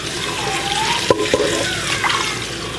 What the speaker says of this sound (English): Put it in the strainer. Rinse once.